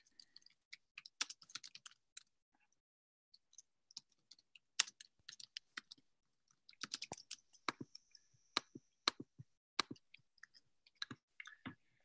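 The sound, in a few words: typing on computer keyboard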